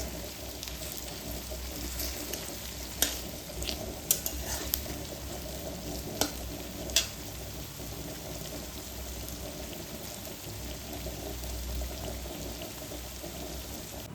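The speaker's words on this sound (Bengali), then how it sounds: "এখানে আমি পেঁয়াজটা তেলে দিয়ে দিয়েছি, বেরেস্তাটা ভেজে নেব" Sliced onions frying in oil for an egg chicken biryani, a continuous soft crackling sizzle throughout with a few sharp clicks of a utensil against the pot, no voices.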